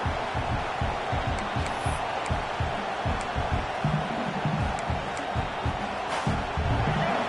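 A packed football stadium crowd roars steadily throughout, a dense wall of cheering with rhythmic thumping underneath, heard up close and loud.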